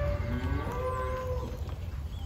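F1 Braford and F1 Brangus cattle low in a few drawn-out moos, one after another, close by with a steady outdoor background.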